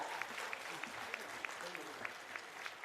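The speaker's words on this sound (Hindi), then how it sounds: "तालियां भी आपकी तरफ से जोरदार हो" Audience clapping at a company launch event in Ranchi attended by the chief minister, a faint, even patter of many hands with a few louder claps, heard at some distance, with a voice mixed in.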